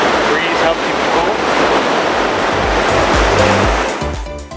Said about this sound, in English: listen to the sounds, the waves, and the breeze helps you cool.